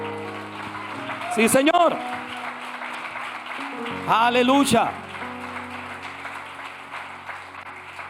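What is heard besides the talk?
church congregation applauding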